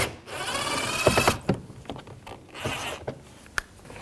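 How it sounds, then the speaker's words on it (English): A Phillips screwdriver works a screw out of the door panel of a 2004-2010 Toyota Sienna, giving a few short scraping, squeaking turns and small clicks close by, broken by brief pauses. "Take this screw out, use a Phillips head screwdriver."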